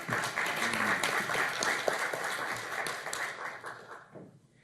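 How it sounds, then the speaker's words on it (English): Audience applause at a STEM industry recruitment panel as a speaker takes her seat: brisk clapping from a modest crowd that tapers off and fades into quiet. "Round of applause"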